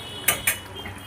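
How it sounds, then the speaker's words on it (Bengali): Two sharp metal-on-pan clinks as fish is flipped over in a cooking pan, close and quick, about a fifth of a second apart, over a faint background hum. "প্রত্যেকটা মাছ আমি উল্টিয়ে দিলাম।"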